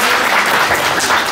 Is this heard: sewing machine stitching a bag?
no